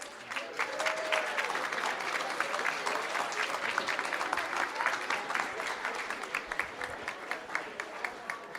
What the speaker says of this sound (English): Let's give our Presidential Volunteer Service gold, silver, and bronze recipients a huge round of applause